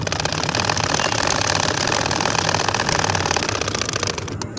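A sewing machine stitches a baby kantha quilt in a fast, continuous mechanical whir and rattle, loud and close, running without pause almost to the end.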